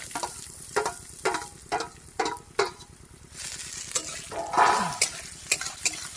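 Chopped potatoes frying in a pan with raw peanuts, a spatula scraping and tapping in bursts over a low steady hum and gentle sizzle, one longer rasping stir midway.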